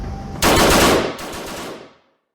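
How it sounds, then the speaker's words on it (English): A sudden burst of rapid gunfire erupts loud and close, a dense automatic volley that eases slightly before cutting off abruptly, then fades. "all of the screaming and yelling was shattered by gunfire"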